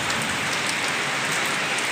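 Heavy rain pours down in a dense, steady hiss, close and loud, with no pauses and no voices.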